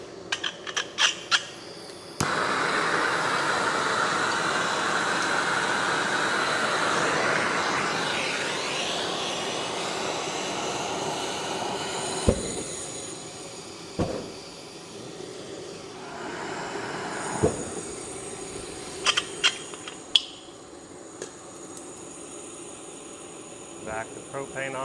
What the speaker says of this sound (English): this is a ribbon burner